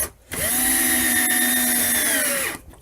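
A power drill whines steadily for about two seconds, driving a screw through drywall into wood during a hole repair, with a clear start and stop and no talk.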